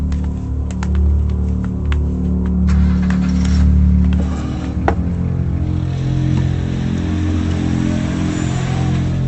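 A car engine rumbles and revs, then pulls away in a loud, low drone that gradually smooths out.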